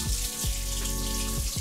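Baby golden potatoes rinsed under a running tap in a kitchen sink, a steady close hiss of flowing water with a few splashy bursts as the potatoes are handled.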